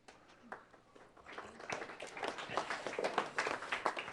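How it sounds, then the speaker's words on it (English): Quiet, polite applause from a small audience starts faint and swells into light, scattered clapping. "The golf applause."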